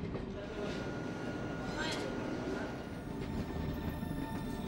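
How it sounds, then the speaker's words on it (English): Passenger train on an Indian railway route pulling into Palodi station, a steady low rumble of rolling wheels and carriages with a brief squeal rising near the middle, heard from on board at moderate level. "Squeaking to a short stop over at Palodi."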